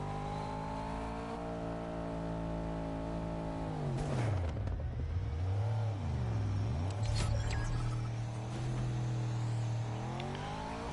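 A car engine in Fortnite Ranked Zero Build drives steadily, then revs and sweeps up and down in pitch as the vehicle speeds along and turns. The motor stays loud and close throughout, with no talk over it.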